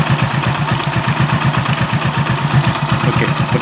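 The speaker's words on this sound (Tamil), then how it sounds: "இப்போ இன்ஜின் நாய்ஸ் பார்த்தீங்களா" Engine idling steadily after a camshaft replacement, a loud, even low throb with a regular pulsing beat that runs unchanged from start to finish, close to the microphone with no speech.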